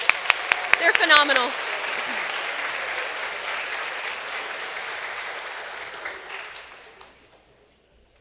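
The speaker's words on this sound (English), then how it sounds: "Another big round of applause for these ladies." Warm applause from a school choir concert audience honoring junior high singers, a steady wash of many hands that swells early, holds, then fades away, with a few voices calling out near the start.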